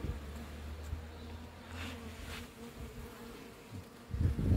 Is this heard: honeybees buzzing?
yes